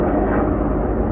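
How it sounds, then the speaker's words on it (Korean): Two helicopters fly over a hillside near a military base in Uijeongbu, a steady, dense rotor and engine roar that fills the whole moment without a break. "이 산 위에 하늘에 헬기콥터 2대가 날고 있습니다."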